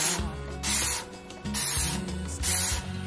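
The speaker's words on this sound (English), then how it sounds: "So I'm going to go ahead and just spray everything down." Method degreaser cleaner sprayed around a travel trailer interior, a series of hissing spray bursts and rubbing sounds in an uneven rhythm, close and fairly quiet.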